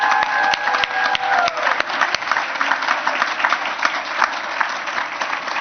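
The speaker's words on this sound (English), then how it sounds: "Can we give Tashana another round of applause?" A hall full of guests at a university scholarship gala claps loudly and continuously, a thick wash of applause, with a brief faint tonal ring near the start.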